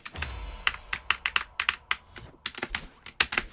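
A mechanical keyboard with Cherry switches clacks under irregular typing, each keystroke a sharp, close click in quick uneven clusters with short pauses, and no talking.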